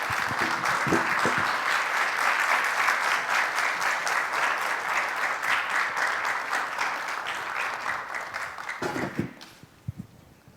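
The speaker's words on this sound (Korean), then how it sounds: "우리 두 분 나올 때 큰 박수로 환영하며 모시도록 하겠습니다." A church congregation applauds to welcome two speakers to the stage, sustained, even clapping filling the room for about nine seconds before thinning into a few scattered claps and a murmur of voices.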